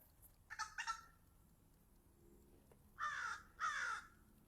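Crows caw outdoors in two short bursts of paired calls, a quieter pair early on and a louder, closer pair a few seconds later, with the gaps between them quiet.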